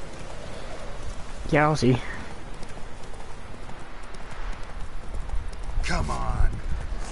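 Horse hooves thud in a rapid galloping rhythm in The Witcher 3, a continuous steady drumming under short bursts of someone talking over the game.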